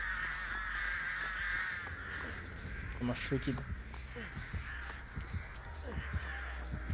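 Crows caw repeatedly in the horror video game Dead by Daylight. The harsh calls come loud and close at first, then sit under casual French-speaking voices.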